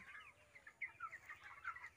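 Chickens cluck softly close by after being fed, a series of quick, faint chirpy clucks and short calls in an irregular rhythm, quiet and without speech.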